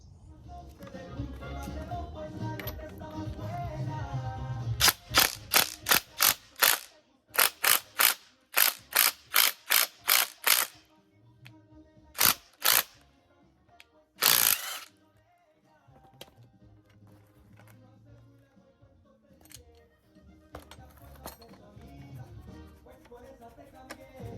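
A hand ratchet works a sway bar end link bolt on an Acura NSX suspension, a series of sharp, rapid clicking bursts in quick rhythmic runs, close and loud, with quieter mechanical handling between.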